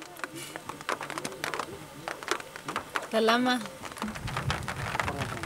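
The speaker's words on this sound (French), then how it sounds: "devant la pluie qui menaçait, nous avons monté la tente en hâte" Steady rain patters on a tent at a camp in Madagascar, a dense wash of drops with a brief louder flurry midway; a faint voice or call is heard briefly.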